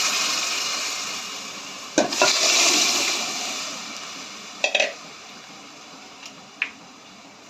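Cooked vegetables are tipped into fried sambar masala in a pan and stirred in: a wet, sloshing wash with a few sharp spoon clunks against the pot, close by and without talk.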